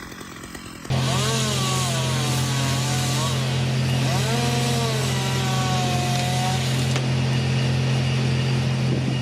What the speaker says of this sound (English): In his hand is a compact chainsaw, roaring loudly.